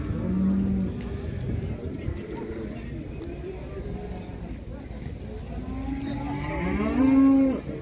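A dairy cow that has calved five times lows at a busy livestock bazaar, with several drawn-out moos building to a loud, close call near the end, over a steady crowd murmur and voices.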